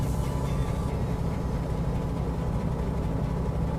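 A Blackwing 635RG light aircraft engine in Microsoft Flight Simulator drones steadily during a departure, a low, rough, weak-sounding hum held at constant level for a few seconds without talk.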